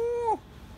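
A single cat meow, a steady tone that bends downward at its end, heard fairly close and alone against a quiet background.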